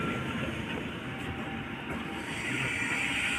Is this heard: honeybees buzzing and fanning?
no